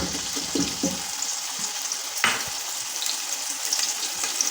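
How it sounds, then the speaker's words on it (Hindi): Garlic ginger paste sizzles and fries steadily in a pan, a continuous bright crackle with a few stirring scrapes early on and a sharper clink near the middle. "तो इसमें अब हम लहसुन अदरक का पेस्ट डालेंगे,"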